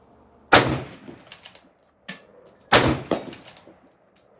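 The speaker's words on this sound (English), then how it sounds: "I was able to get 20 rounds off in a minute, which is pretty impressive for a bolt action" A 1917 Enfield bolt-action rifle fires two sharp, loud shots about two seconds apart outdoors. Each shot is followed by metallic clacks of the bolt being cycled.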